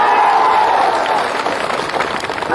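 Audience at a political rally breaks into loud, continuous clapping with some crowd noise, sustained throughout.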